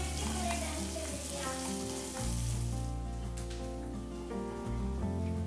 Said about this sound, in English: add chopped onions and saute till translucent